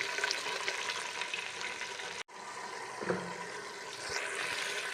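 Beef and garlic frying in hot ghee in a pan, giving a steady, close sizzle that crackles on and on, with a short break partway through and a few stirring knocks.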